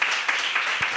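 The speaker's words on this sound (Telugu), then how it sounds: "చప్పట్లు కొట్టండి." A church congregation claps during a Sunday sermon, a steady, dense burst of applause from many hands filling the room for about a second.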